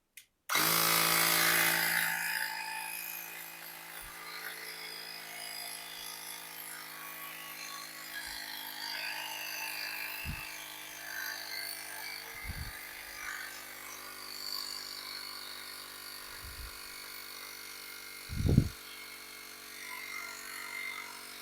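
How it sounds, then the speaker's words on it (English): An electric pump inflates a bicycle TPU inner tube, giving a steady motor whine that starts loud and settles into a constant drone, with a few low thumps along the way. "I'm going to try my electric pump, but it doesn't really blow up the way that I want it to"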